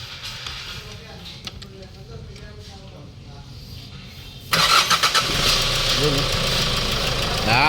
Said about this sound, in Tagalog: So start na natin yung makina.